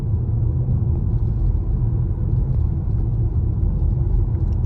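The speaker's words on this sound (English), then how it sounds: "Here we are driving the Tesla Model Y refresh, Juniper. I'm going up Hurricane Ridge." A Tesla Model Y Juniper refresh climbs Hurricane Ridge under self-driving, with a steady, loud, low road rumble and tyre noise filling the cabin and no distinct engine note.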